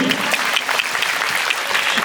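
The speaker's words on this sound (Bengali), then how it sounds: "সবাই করতালি হবে, করতালি।" Applause from a crowd at a school's annual sports competition, dense continuous clapping filling the whole stretch at moderate distance, with no clear voices on top.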